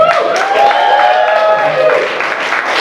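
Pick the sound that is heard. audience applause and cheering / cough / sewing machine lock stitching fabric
audience applause and cheering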